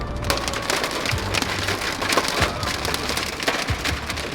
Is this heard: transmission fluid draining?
no